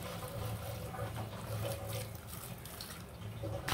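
Cut vegetables are rinsed under a running kitchen tap, a steady close splashing flow of water that continues throughout with no clear talking.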